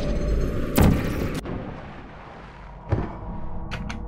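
Portal gun shots in the video game Portal: a loud broadband burst near the start, then a smaller sharp shot and faint later blips over steady game ambience, no talking.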